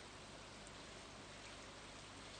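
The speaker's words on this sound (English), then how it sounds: "look at it raining, banging" Steady rain falling and drumming on a surface, a dense continuous hiss with no pauses, moderately loud and close.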